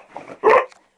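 A female dog barking at her own reflection in a mirror, one short close bark preceded by a soft whine-like yip, alone in a quiet room.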